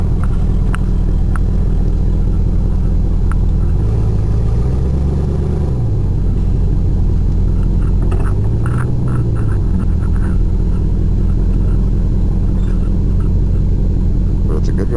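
Oldsmobile car with a 305 engine running while driving, with a steady low rumble throughout and slight rises in pitch, loud and close, under light talk.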